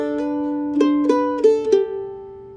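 Plucked mandolin notes play a short melody with a tied note sustaining through the rhythm, leaving the final note ringing out alone and clear.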